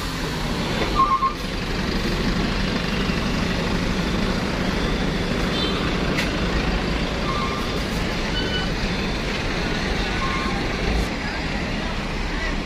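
A bus rolls into Merak port, its engine a low steady drone with faint beeps and air-brake hisses over busy harbour background noise; people talk nearby.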